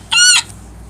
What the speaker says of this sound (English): Wow, that was a really cool seagull.